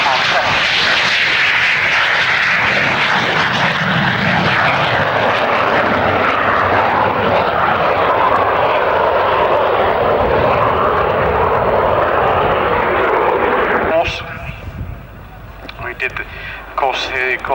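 A 1958 Hawker Hunter Mark 53 two-seat jet trainer roars loudly past at an airshow with a sustained broadband engine rush, then drops away abruptly near the end as a commentator talks over it.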